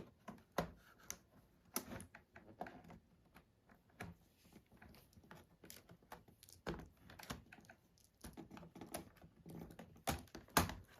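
Quiet, irregular clicks and small plastic snaps come from a laptop keyboard being pried up and lifted out during disassembly, with short bursts of taps and pauses in between.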